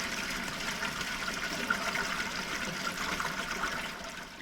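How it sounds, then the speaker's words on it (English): Water runs steadily out of the bottom drain of a fish fry tank to waste, a continuous gurgling, trickling flow at moderate level with no talk. "I'm just purging the bottom drain, let the water run through, and then go straight to waste"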